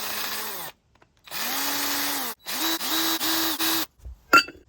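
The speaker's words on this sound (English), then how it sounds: "Drill these holes and hopefully this sprocket's gonna run true." A power drill bores holes in a sprocket for a Razor two-stroke dirt bike, heard in several close bursts of whining motor that rise in pitch as each starts, separated by brief silences.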